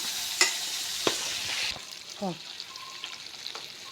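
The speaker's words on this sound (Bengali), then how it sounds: "এক পাশ আমাদের ভাজা হয়ে গেছে, অপর পাশ উল্টে দিচ্ছি আমরা" Rohu fish pieces frying in a pan, a steady soft sizzle broken by a few sharp clacks as the pieces are turned, with faint spoken voice in the background.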